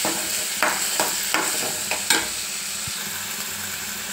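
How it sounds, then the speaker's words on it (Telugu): Tomato pieces sizzle steadily in a hot pan while a spoon stirs them in a few scraping strokes, a close, moderately quiet frying hiss with soft rhythmic knocks. "ఇది కొంచెం వేగాక టమాటా ముక్కలు వేసుకోవాలి."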